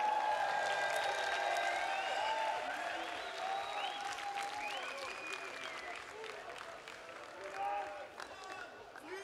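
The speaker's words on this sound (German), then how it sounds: "Einen Applaus für Absilon, bitte." Sustained applause from a large festival audience at splash! Festival 2022, steady and dense, gradually thinning slightly with a few cheers and whistles mixed in.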